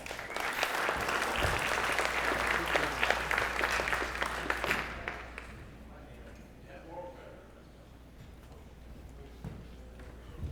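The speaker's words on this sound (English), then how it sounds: "Y'all give Bo a big round of applause." Audience applause at an outdoors hall of fame induction ceremony, loud dense clapping from a large crowd for about five seconds, then fading into quieter room murmur and low hum.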